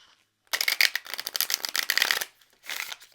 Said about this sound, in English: it's a very, very stiff shuffle for me